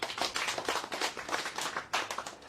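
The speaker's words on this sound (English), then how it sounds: "Can you clap hands for yourselves?" Audience of young people at a youth panel discussion clapping for themselves, close and distinct handclaps in a lively uneven burst with individual claps clearly audible, lasting a couple of seconds.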